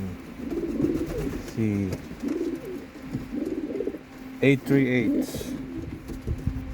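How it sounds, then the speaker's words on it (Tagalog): Pet pigeon cooing nearby, several soft throaty coos in a repeating rhythm, mixed with someone talking. "itong si aking pangalawang paboritong kalapate"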